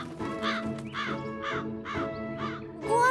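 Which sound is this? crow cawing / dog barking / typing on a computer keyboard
crow cawing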